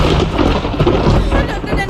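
Heavy rain pours in a dense, continuous roar with deep thunder rumbling through it, loud and close, while voices speak faintly beneath.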